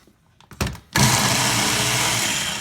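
A Ninja blender roars to life chopping onions, loud and steady after a few brief knocks and clatters as the pieces go in, its motor holding a dense, even whine to the end.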